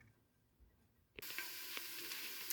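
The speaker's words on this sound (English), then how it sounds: "So I've dumped the garlic in. And it is starting to simmer" Garlic hits warm oil in a soup pan and bursts into a bright, steady sizzle after a quiet start, with a few small crackles and pops continuing close by.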